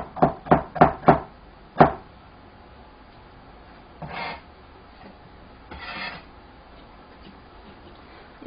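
A knife slices bamboo shoots into 4 cm pieces on a cutting board: a quick run of four sharp chops, one more after a pause, then two softer scraping strokes farther apart, no talking.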